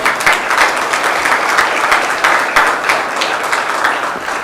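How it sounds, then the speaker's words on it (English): Sustained applause from a conference audience, dense and steady clapping throughout at a fairly loud level, with no voices standing out. "can I have a huge round of applause?"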